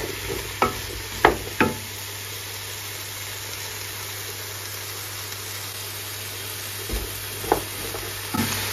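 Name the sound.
stirring celery soup cooking in a pan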